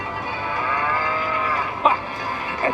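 A cow's drawn-out, nasal moo rings out clearly during a winter show at the Toverland theme park, followed by a couple of short, sharp knocks.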